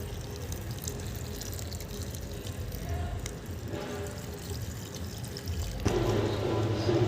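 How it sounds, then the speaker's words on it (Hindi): Water poured into a plant pot freshly set with two plants, a steady splashing pour that grows louder and fuller toward the end. "अब मैं इसमें अच्छे से पानी डाल देंगे।"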